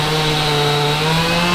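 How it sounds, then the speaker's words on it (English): A chainsaw engine drones loudly and continuously at a steady pitch, close by, with no pauses, as a fallen tree that crushed a car is cut. "as we can hear, chainsaws are running"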